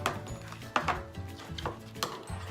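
Slime ingredients being stirred and mixed in a bowl, with soft repeated scraping and knocking strokes at close range, a few sharper clacks, no talking.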